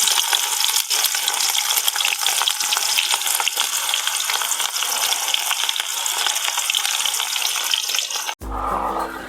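Finely chopped onions hit hot oil in a pan while cooking dry bombil (Bombay duck) masala, giving a loud, steady sizzle and crackle that runs almost throughout before cutting off near the end.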